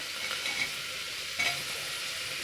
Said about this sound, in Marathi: आता आपल्याला सर्व व्हेजिटेबल्स टाकायचे आहे